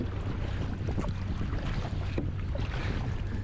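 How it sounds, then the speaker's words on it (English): A canoe paddled with a proper oar through small waves near the Maldives, water sloshing and splashing in irregular strokes under steady wind buffeting the microphone. "Here's me struggling in a good canoe with a proper oar"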